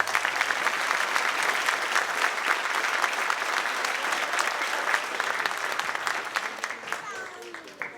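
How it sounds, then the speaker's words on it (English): An audience at an honor band concert gives sustained, dense applause, loud and steady throughout and tapering slightly near the end. "Can we give them one more big round of applause?"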